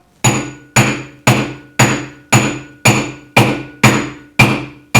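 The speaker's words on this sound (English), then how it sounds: "As you can see, the ring is coming further down the mandrel with every different hammer mark I make." A hammer striking a silver ring on a steel mandrel, ten evenly spaced sharp metallic blows with short ringing decay, loud and close with no voices.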